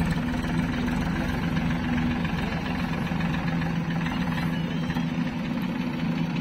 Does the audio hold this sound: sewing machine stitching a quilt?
no